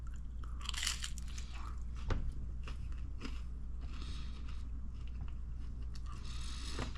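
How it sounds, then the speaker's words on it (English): Crunchy pizza crust, light and not overworked, being bitten and chewed up close, with several crisp cracking bites and a steady run of chewing crunches and no talking. "It's nice and light and easy to crunch through."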